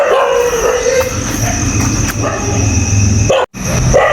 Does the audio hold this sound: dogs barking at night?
yes